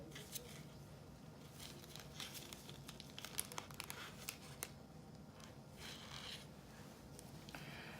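Soft plastic bag crinkling and rustling in scattered, irregular bursts as a penicillin disc is removed, close and quiet, with no talking.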